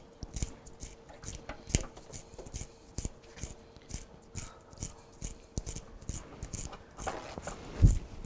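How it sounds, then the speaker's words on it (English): About half a teaspoon of cinnamon is ground in a kitchen spice grinder, giving faint, rhythmic crunching clicks that repeat at an uneven pace, with a slightly louder scrape near the end. "I'm going to grind what I think is about a 1/2 teaspoon of cinnamon"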